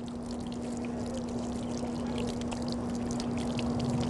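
Water pours steadily from a built-in hand-washing station inside a car, a continuous close splashing rush with a constant tonal hum beneath it and no pauses.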